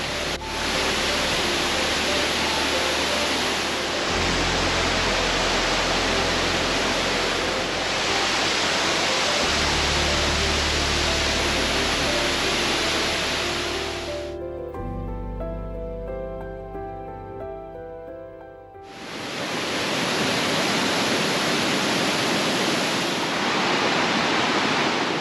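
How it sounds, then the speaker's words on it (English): Continuous heavy rush of a waterfall in a Croatian national park, loud and close, dipping briefly into a quieter tonal stretch before the roar returns. "The water is crystal clear, and around every bend there's a waterfall."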